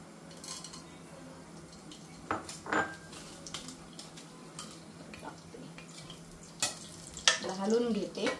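Coconut and spices stirred in oil in a pan, with a faint low sizzle under intermittent scraping and clinking of a utensil against the pan, and a few sharper knocks toward the end.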